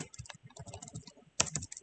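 Keys clatter on a computer keyboard in quick irregular bursts, a short pause, then a louder flurry of taps, close and without any voice.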